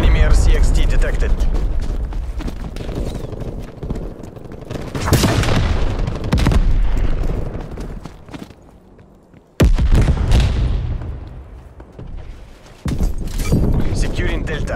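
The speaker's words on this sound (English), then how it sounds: "Artillery targeting detected. Netco, incoming artillery." Incoming artillery strike in the Black Ops Cold War beta: repeated loud booming impacts and gunfire bursts, near and heavy, with short lulls between volleys and an announcer voice over the battle.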